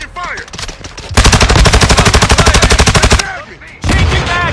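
Loud, sustained automatic gunfire in Call of Duty: Modern Warfare 2, a rapid rhythmic burst of about two seconds followed after a pause by another burst, with shouted game voices and battle noise around it.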